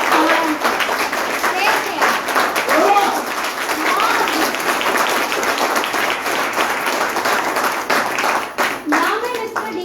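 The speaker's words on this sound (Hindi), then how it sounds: "तो एक बार उस मालिक के लिए ताली बजा दीजिए" Audience applause for a company owner and CEO at a direct-selling business event, a dense, steady clapping from a large crowd that fills the whole stretch, with scattered voices mixed in.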